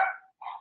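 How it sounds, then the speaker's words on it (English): Dogs bark twice in quick succession, short and close. "sorry, that's my dogs"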